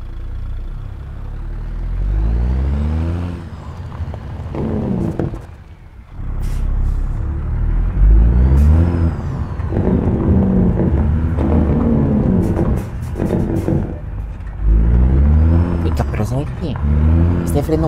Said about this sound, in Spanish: Este freno motor está bueno como para hacer así. Para frenarlo así, hacerlo sonar así.